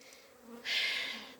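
Honeybees buzz at an apiary during their first spring cleansing flight. A close, bright drone swells up and holds for under a second against a quieter background hum.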